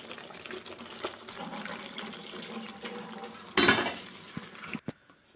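Rinse water from a mixer jar is poured into radish chutney, heard as a short, close gush of liquid that stands out midway through quieter kitchen noise and ends with a couple of soft knocks.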